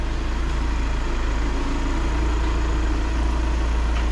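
A Skoda Superb with a 2.0 TDI CFGB 170 hp diesel idles under the bonnet, giving a steady, even low rumble with a fine rhythmic clatter and no other sounds.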